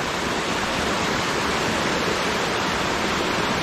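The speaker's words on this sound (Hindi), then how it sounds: "मुझे एक छोटी सी झलक नज़र आई है वाटरफॉल की" Waterfall at Thandiani near Abbottabad, a steady, loud broadband roar of falling water that holds constant throughout with no voices.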